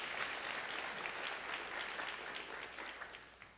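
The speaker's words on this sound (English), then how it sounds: "let's give him a round of applause" An audience at a venture competition final round claps for a judge introduced as founder and CEO of an AI company, steady, dense applause that tapers slightly toward the end.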